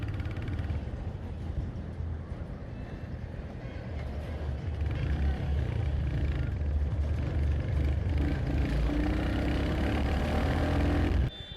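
A 2025 Royal Enfield Hunter 350 OBD2B motorcycle on the move, its low engine rumble steady at first, then deepening and growing louder as it pulls through a gear change, with road and wind noise underneath.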